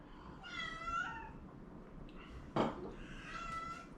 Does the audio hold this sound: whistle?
no